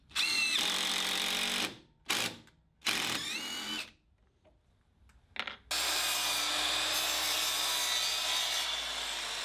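A power drill drives screws into wood in several bursts, separated by short pauses, then one long steady run; close and loud with no talking.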